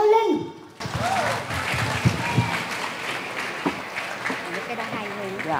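An audience welcoming a singer at a Vu Lan celebration with a steady burst of clapping that rises after a moment and carries on, with a voice heard briefly just before it starts.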